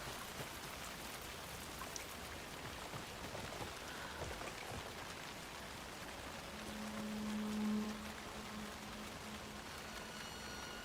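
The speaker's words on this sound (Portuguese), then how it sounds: "Tá chovendo pra caramba" Heavy rain in the video game Alan Wake 2 pours steadily in a dense, hissing wash, with a faint low rumble rising briefly near the end; no one speaks.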